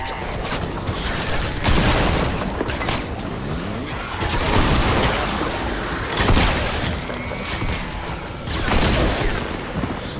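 Gunfire in a Fortnite match, repeated bursts of shots and booms in uneven clusters, loud and dense throughout.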